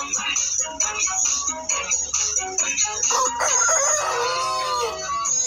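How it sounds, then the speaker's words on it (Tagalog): Inside a chicken house holding white leghorn and black chickens, a rooster lets out a long crow near the end over continuous close clucking from the flock. "Ayan, tatataok daw."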